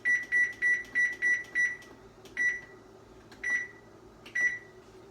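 An oven timer set for 18 minutes beeps six times in quick succession, then three more single beeps with pauses, over a low steady hum of the running oven.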